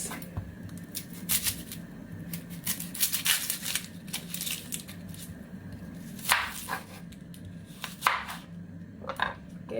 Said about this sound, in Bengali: পেঁয়াজটা আমি কেটে নিচ্ছি